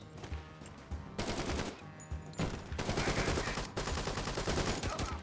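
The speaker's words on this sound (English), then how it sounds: "And the blind fire starts." Blind-fired gunshots in a multiplayer shooter, heard as several loud rapid-fire bursts separated by brief pauses, some clattering and overlapping, filling the scene at close range.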